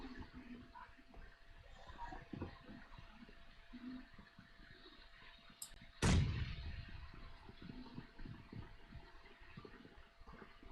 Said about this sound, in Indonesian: Awas bom di bawah.